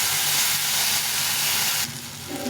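A paste of chili, ginger, cumin and turmeric mixed with a little water hits a hot pan for stir-frying, giving a loud, steady sizzling hiss that drops off abruptly after about two seconds.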